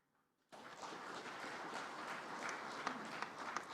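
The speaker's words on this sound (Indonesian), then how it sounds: "Jangan tepuk tangan dulu." A crowd breaks into sustained applause during a speech by Indonesian President Jokowi, after a brief quiet moment, steady dense clapping continuing to the end.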